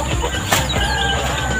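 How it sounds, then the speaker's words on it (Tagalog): A free-range chicken clucks briefly against a steady outdoor background, with a soft flutter partway through; no one speaks. "ito ang maganda kong manok"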